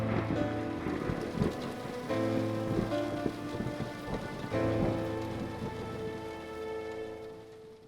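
A thunderstorm with steady rain pattering on a surface and low rumbles of thunder, holding a constant loud wash of sound for about eight seconds with no voices.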